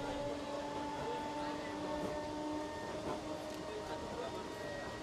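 A crowded commuter train in Mumbai runs with a continuous rumble and faint metallic whines, heard from on board at moderate level with a busy murmur of voices blended in.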